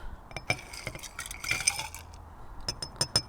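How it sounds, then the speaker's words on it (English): Crushed ice tumbles into a cocktail glass, giving close, bright clinks and rattles in short scattered bursts with no one speaking. "And then you want to add yourself some crushed ice."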